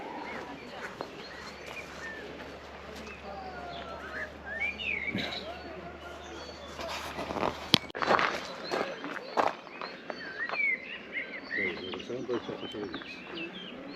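Small birds chirp and whistle around an outdoor lunch spot at Butrint, Albania. The calls are scattered, faint and brief, with some distant ambient noise and occasional soft rustles between them.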